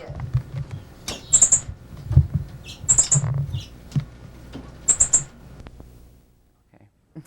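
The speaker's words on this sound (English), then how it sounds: "in the background, with all the birds cheeping" Birds cheep in the background in quick clusters of high, thin chirps repeating every couple of seconds over low handling noise, then the scene falls nearly silent.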